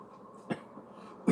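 A person coughing: a short sharp cough burst in the middle, a fainter one after it, and a louder cough at the end, over quiet room noise.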